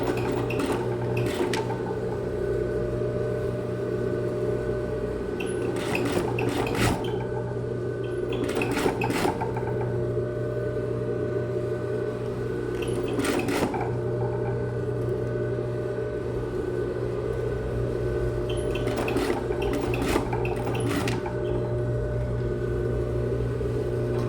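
A sewing machine stay-stitches a jacket pocket lining, its close mechanical hum running steadily while several short bursts of faster needle stitching rise above it at irregular intervals.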